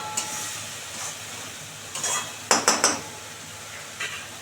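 Mustard spice paste is stirred in a pan, with a metal spoon clinking and scraping against the pan in a few short bursts, a quick cluster in the middle, and a faint sizzle underneath.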